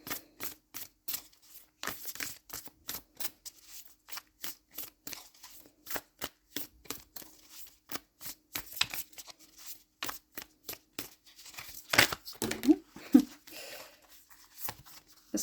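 Moonology oracle cards are shuffled by hand in a rapid series of crisp riffling and flicking bursts, close and fairly quiet, with a brief cluster of louder card handling near the end.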